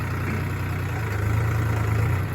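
A tractor engine idles steadily with a deep, low rumble and a constant mid hum, close and continuous with no talk over it.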